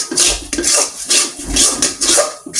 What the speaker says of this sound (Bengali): নাড়তেই থাকা লাগবে, একদম নাড়া অফ করা যাবে না।